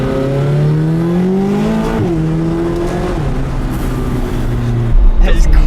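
A McLaren 570GT engine pulls at partial throttle, its tone rising steadily, dipping with a gear change and climbing again, loud from inside the car.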